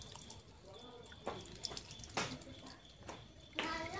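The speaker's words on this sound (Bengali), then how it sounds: "এবারে আমি দেখো জল দিয়ে দিচ্ছি" Water poured from above onto seedlings in a flower pot, a few brief splashing pours in close succession, close and soft, with someone speaking intermittently.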